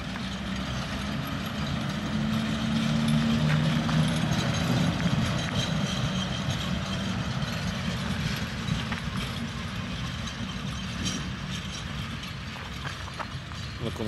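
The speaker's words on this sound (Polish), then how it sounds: "trzeba jeszcze nagrać manewry ET22" An ET22 electric locomotive runs steadily while manoeuvring at a railway siding, a continuous low mechanical drone and hum with faint clanks that stays even and fairly close throughout, with no talking.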